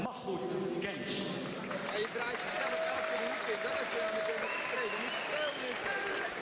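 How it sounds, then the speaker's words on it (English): Crowd applause for the promoter at a boxing event, a continuous patter of clapping mixed with crowd noise and talking over the top. "Give him an applause."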